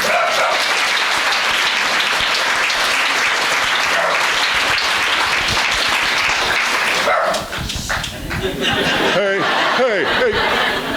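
An audience at a talk breaks into loud, sustained applause that fills the room, with some laughter mixed in. Near the end the clapping thins, and a few voices and short sounds come through.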